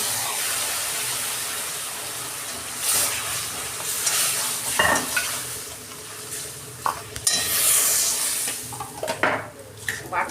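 A spice paste hits hot oil and fried onions in a wok, giving a loud, steady sizzle broken by scraping spatula strokes and metallic clanks against the pan.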